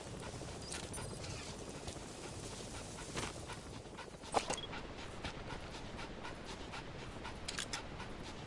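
A wild dog pup panting in Metal Gear Solid 3, quick soft breathy pants repeating close by, with faint whimpers and small rustles underneath.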